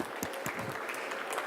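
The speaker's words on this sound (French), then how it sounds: "Merci beaucoup, on vous applaudit." Brief burst of audience clapping after a talk at a water-innovation forum, moderately loud and continuous for a second or two.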